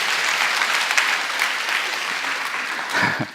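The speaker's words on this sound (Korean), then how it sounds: "박수 주세요, 우리 배경음 아가씨." Congregation in a church service clapping for the woman who performed the background music, a steady, fairly loud wash of many hands that briefly surges near the end.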